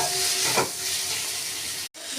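Ginger spice paste frying with chopped tomato in a pan gives a steady sizzle and hiss, with a brief stirring scrape near the start and a very short dropout near the end.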